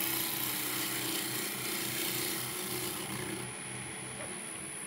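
Gentle wood shavings cut from a workpiece, a close continuous rasping cut over a steady background hum that softens near the end, with no talking.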